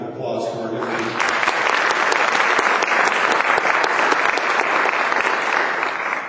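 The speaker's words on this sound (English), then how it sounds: "So I'd like to hear a big round of applause for our young." A crowd at a spelling bee bursts into loud, sustained applause for the young student spellers, dense clapping that swells after a brief moment and holds strong for several seconds.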